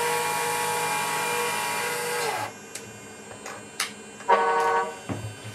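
The sound module of a Tamiya MFC-03 RC truck sounds its horn: a long, loud, steady tonal blast that cuts off abruptly, followed by a couple of shorter honks and clicks.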